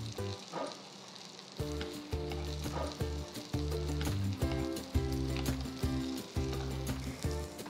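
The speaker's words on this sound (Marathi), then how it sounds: "Shallow fry करायच्यात. उलटवून दुसऱ्या बाजूने पण छान भाजून घ्या." Ragda patties shallow fry in oil in a pan, a continuous close crackling sizzle with repeated rhythmic metallic clinks and scrapes of a spatula, no voices.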